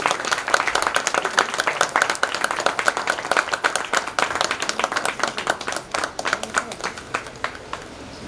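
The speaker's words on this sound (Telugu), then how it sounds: "క్లాప్స్ కొట్టండి." A church audience claps during a 25th anniversary celebration as mementos are handed out, a steady burst of many hands that is loud at first and gradually thins out.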